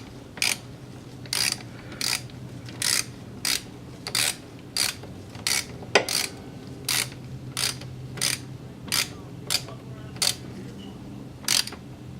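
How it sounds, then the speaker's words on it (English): A hand ratchet tightens the oil filter on a Genuine Hooligan 170i scooter, giving a steady run of about fifteen sharp, close clicks spaced evenly over twelve seconds, each one a crisp pawl snap, with no speech. "then I take the ratchet and tighten it back up"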